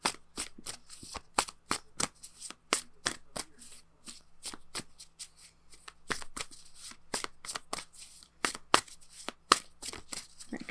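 Oracle cards shuffled by hand in quick irregular bursts of crisp riffling slaps, close and fairly quiet, continuing for several seconds without talking.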